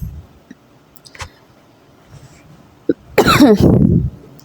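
A few faint clicks and a small throat sound, then a single loud, harsh cough close to the microphone.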